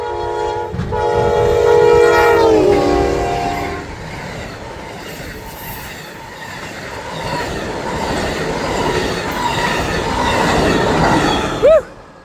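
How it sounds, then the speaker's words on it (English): An Amtrak passenger train blasts its horn loudly up close, then rushes past at speed with a heavy rumbling roar and rattle of cars, ending in a brief high squeal. "All right, it's a passenger train."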